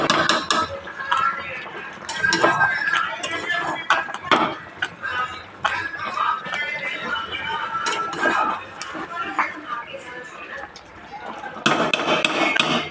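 Chicken cooked karahi style in a pan over high heat, stirred with a metal spatula: rapid clinks and scrapes against the pan over a soft sizzle, with a person talking in between.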